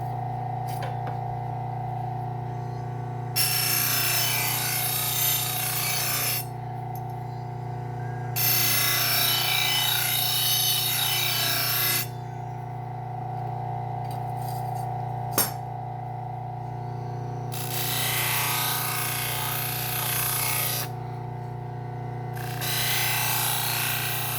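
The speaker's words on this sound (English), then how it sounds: "we're using some white compound on the leather belt" A knife stropped on a leather belt loaded with white compound, with bursts of bright swishing strokes alternating with quieter gaps over a steady background hum.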